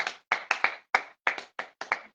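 Hand clapping in a church worship service, about ten sharp, close claps in an uneven rhythm, some in quick pairs, with short silences between them and no voices.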